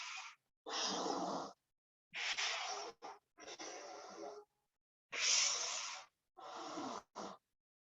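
Deep, forceful breathing in and out during pranayama yoga practice, heard close up as about seven distinct airy breaths separated by short silences, some long and some clipped short.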